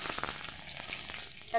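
Cardamom, cloves, cinnamon and black pepper fry in hot oil with a steady, close sizzle that holds evenly throughout, with no talking.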